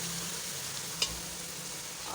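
Aloo matar pulao being roasted and stirred in a pot: a steady low sizzle of frying throughout, with one brief clink of the spoon against the pot partway through.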